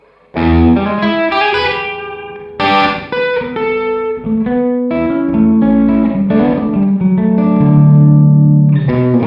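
Overdriven electric guitar strums chords and picks notes through a REVV D20 amp, ringing out in a roomy loft space with a noticeable reverb tail.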